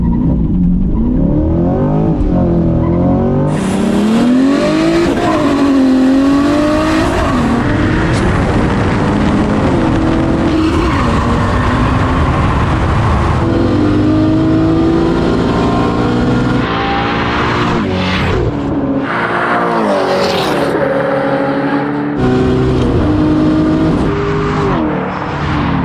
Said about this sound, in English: It might have been the first ever clutch kick in a drag race.